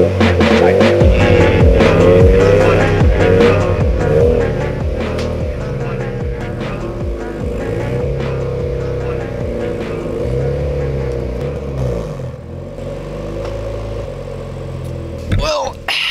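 A 1995 turbo Acura Integra barn find running and moving, its engine droning and throbbing steadily with shifting pitch, a voice talking over it at times.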